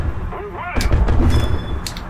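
A sharp metallic anvil-like impact during a War Thunder simulator flight in an F-104J, a loud hit followed by rumbling engine and gunfire noise, with a brief pitched whine before it.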